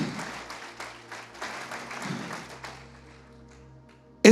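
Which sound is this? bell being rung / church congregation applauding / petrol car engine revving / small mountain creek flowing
church congregation applauding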